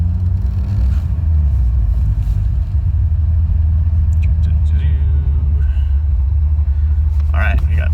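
An Alfa Romeo Milano 3.0 rolls slowly onto a vehicle scale, its engine a steady, close, low rumble throughout, with a few light clicks and knocks near the end.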